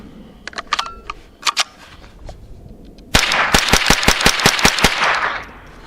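Rapid .22 rifle shots from a Rock Island Derya TM22, about a dozen sharp cracks in quick succession after a few lighter metallic clicks of handling, loud and close.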